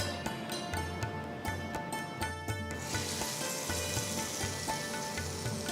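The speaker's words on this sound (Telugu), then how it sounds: "సో ఇప్పుడు మనం తాలింపుని పెరుగు పచ్చడిలో వేసేద్దాం" A tadka of dried red chillies, asafoetida and curry leaves in hot oil sizzles as it is poured into curd chutney, crackling close and steady, with sharp pops before the hiss rises and stays even.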